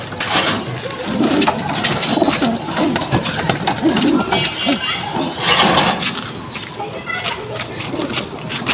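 Female pigeons coo in a cage, low soft cooing repeated steadily under a constant rustling background. Voices are faint at times and stay in the background.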